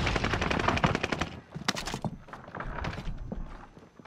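Call of Duty: Modern Warfare firefight with sustained automatic weapon bursts, a brief lull, then sharp louder shots and further scattered firing, near and intense throughout.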